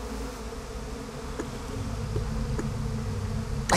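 Steady insect-like buzz of a bee swarm in the video game Psychonauts 2, a continuous droning hum that holds level and swells slightly toward the end, with no talk over it.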